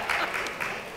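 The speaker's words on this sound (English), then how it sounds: "that's the first time that I ever got applause for a joke" An audience at an evening lecture applauds a joke with a brief, moderately loud round of clapping that fades slightly toward the end.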